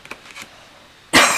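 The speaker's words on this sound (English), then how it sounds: "excuse me, coughing" A single sharp cough close up, loud and abrupt, after a brief stretch of quiet murmuring.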